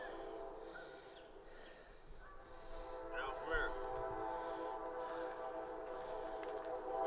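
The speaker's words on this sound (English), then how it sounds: "I hear the train." A train passes unseen through deep woods along a hiking trail. It is heard faintly and far off as a sustained horn-like drone with a low rumble, growing slightly louder, while a hiker's voice is faintly present.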